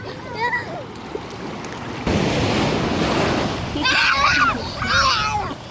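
Sea surf and wind roar at a beach where people are swimming, with splashing bursts and children's excited voices calling out over the steady wash of waves.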